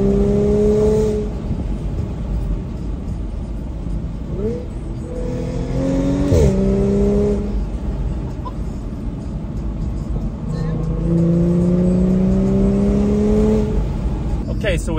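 A modified, APR-tuned Audi B8.5 S4 with about 100k miles launches hard, its engine note rising through repeated up-sweeping pulls amid steady road and cabin rumble, with some talking inside.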